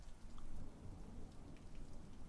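Steady rain from a thunderstorm with low rumbling thunder, a continuous dense wash of downpour heard indoors, fairly quiet and without speech.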